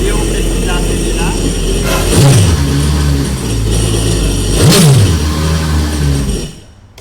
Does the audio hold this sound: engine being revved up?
yes